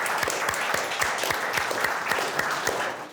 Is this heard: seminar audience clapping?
yes